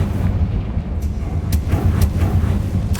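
A Confringo fire-blast spell detonates in Hogwarts Legacy as a steady, roaring burst of explosive rumble with heavy low-end weight, punctuated by a few sharp crackling flares.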